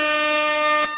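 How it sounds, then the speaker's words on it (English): A loud, steady air horn blast used as a sound effect, holding one bright harmonic tone for most of a second before cutting off abruptly, with no voices over it. "I bet I caught you all off with that horn"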